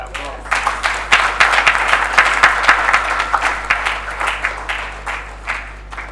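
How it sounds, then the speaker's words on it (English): Audience applause after a speech at a business roundtable, dense steady clapping that swells and holds, with a low hum underneath and some voices mixed in. "I think he deserves a bigger applause."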